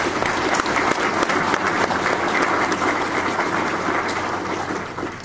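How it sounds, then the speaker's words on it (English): Loud, sustained applause from a crowd at a Mississippi Air National Guard change of command ceremony, honoring newly enlisted airmen; a dense, even roar of clapping that tapers slightly toward the end. "Please give them a round of applause."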